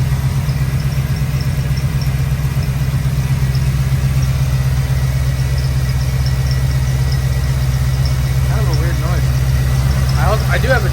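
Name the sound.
LS-swapped BMW E36 engine running, unknown noise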